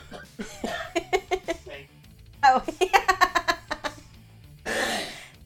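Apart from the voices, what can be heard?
man laughing and coughing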